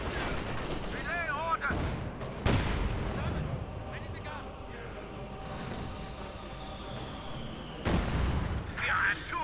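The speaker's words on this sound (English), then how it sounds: "Artillery fire on the Schwerpanzer headquarters." Artillery barrages and infantry gunfire from the Company of Heroes 2 strategy game, with scattered booms and crackling shots under a steady battle rumble and someone speaking over much of it.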